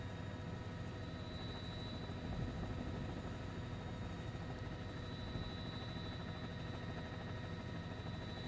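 A helicopter lifting off near a partial building collapse in New York City, a steady, loud rotor and engine roar that fills the whole stretch without pause.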